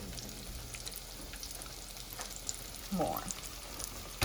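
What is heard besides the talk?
zucchini frying in a pan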